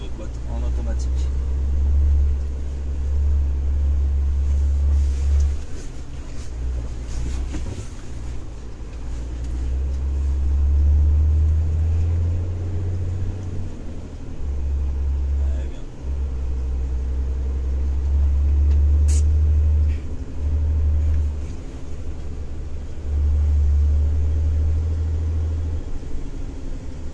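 A Renault C 500 truck rolls along with a deep, steady engine rumble that swells and eases in long stretches, loud inside the cab, while people talk over it now and then.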